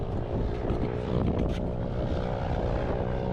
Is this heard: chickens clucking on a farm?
no